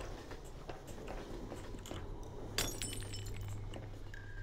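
Beer glass knocked over and breaking in the video game Transmissions: Element 120, a sudden bright shatter with scattered tinkling fragments over a continuous low train rumble, following a few lighter clinks.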